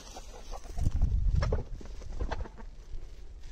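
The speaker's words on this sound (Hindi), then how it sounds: "देसी असील मुर्गियाँ।" Desi Aseel chickens cluck close by in a cold village yard, a few soft, low clucks and rustling over about three seconds.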